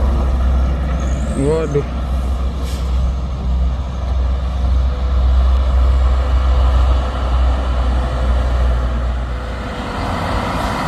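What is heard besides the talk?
loaded truck accelerating uphill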